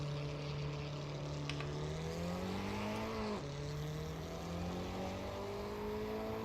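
Lancia race car engine idling and revving in Assetto Corsa EVO at Fuji, a steady loud drone that rises in pitch, dips sharply with a gear change near the middle, then climbs again, close and continuous.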